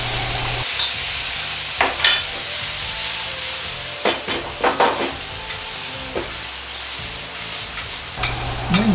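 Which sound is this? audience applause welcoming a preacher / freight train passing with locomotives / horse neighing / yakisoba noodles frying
yakisoba noodles frying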